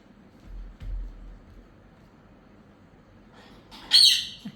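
A parrot lets out a single loud, harsh squawk near the end, after a quiet stretch with a few low thumps nearby.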